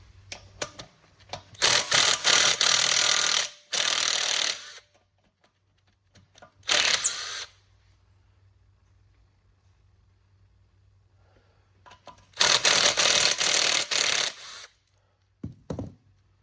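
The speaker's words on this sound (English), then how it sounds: "Let's take this mounting bracket off." Bursts of a power tool, likely an impact driver, loosen bolts on a motorcycle side mounting bracket held with thread locker, with several loud whirring runs of one to two seconds separated by quiet pauses and light clunks.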